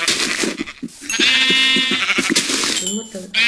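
Sheep bleat repeatedly in the Minecraft video game, several wavering calls in quick succession, mixed with someone speaking French over them.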